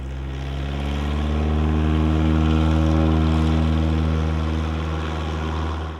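A Bushwacker light airplane in flight gives a steady, loud drone of engine and propeller, with a constant buzzing tone that swells slightly and holds for several seconds.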